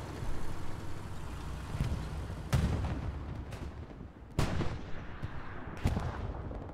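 Artillery fire in the World War II shooter Hell Let Loose on Utah Beach, with several heavy booming impacts spaced a second or two apart over a steady rumbling battle background, no talk.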